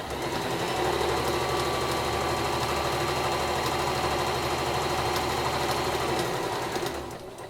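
A sewing machine stitches the straight edges of a dog bandana, whirring in one continuous close run for several seconds before stopping.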